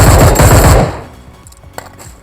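Rapid automatic gunfire in a mobile shooter game, heard as a loud burst of closely spaced shots. The burst cuts off within a second, followed by quieter clicks and a single sharp knock.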